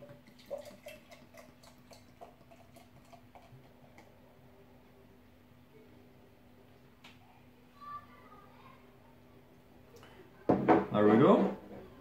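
A bottle of German Dithmarscher Urtyp beer, brewed in Marne, is poured into a glass. A short, loud, fizzy splash comes near the end after quiet clicks and handling, with a voice talking faintly in the background.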